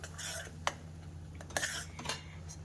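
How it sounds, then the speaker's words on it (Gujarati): A spoon works through mango pulp mixture for mango halwa in a pan, giving a few sharp clinks and soft scrapes against a low steady hum, with no talking. "આવી રીતના મિક્સ કરી લઈશું."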